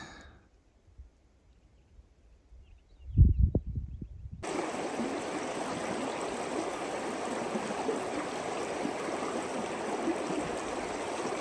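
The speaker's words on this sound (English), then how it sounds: "And down to the running water." Mountain stream in a backcountry valley of Jasper National Park: after a quiet opening with some rustling and handling, flowing water rushes in and continues as a steady, full babble, close and alone.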